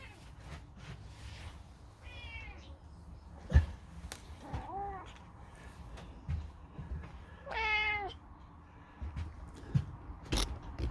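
A cat meows twice in a workshop, clear harmonic calls around two and eight seconds, over a low room hum with a few scattered knocks and clicks.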